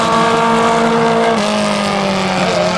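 A race car at a speedway howls past across the finish line, one loud, close, sustained engine note that drops slightly in pitch as it goes by.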